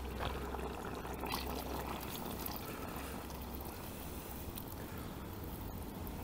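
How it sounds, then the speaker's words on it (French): Hot water pours continuously into a filter holding beeswax, a steady, faint splashing and rushing stream with no pauses and no voices. "je vais remettre de l'eau. De l'eau bien chaude de préférence"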